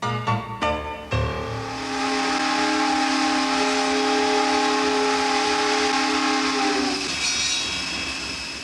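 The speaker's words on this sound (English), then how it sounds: "many of us can still recall the sound of the steam whistle" A steamboat steam whistle blasts one long, loud, steady chord for several seconds after a few short rumbling bursts, with a faint hiss as it dies away.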